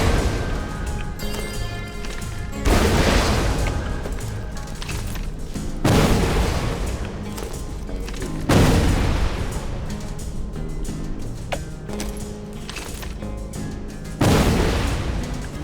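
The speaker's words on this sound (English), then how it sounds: "Let's see which truly has the faster rockets." Rocket launcher blasts in Borderlands 2, heavy booming explosions arriving every few seconds, five loud hits with rumbling decay between them.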